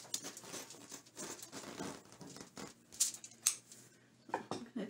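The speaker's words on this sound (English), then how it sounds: "These are my material cutting scissors, my sewing scissors." Sewing scissors snip through fabric in a series of quiet, close crisp cuts and rustles, with a few sharper clicks of the blades.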